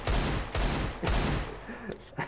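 Rapid automatic gunfire from a CS:GO match in a competitive esports game, loud bursts in several quick volleys with short gaps, close and dominant.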